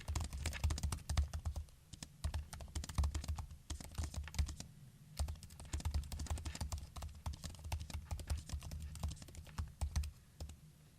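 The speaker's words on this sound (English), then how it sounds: "that gives you an idea of what it sounds like when you're typing on it" Rapid typing on a MacBook Neo laptop keyboard, a steady stream of light clicky keystrokes with brief pauses between bursts, recorded close up.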